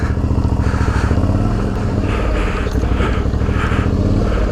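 Raised Suzuki V-Strom DL650 motorcycle ridden in slow practice manoeuvres, a loud close engine throb rising and falling as the throttle is worked, with no speech over it.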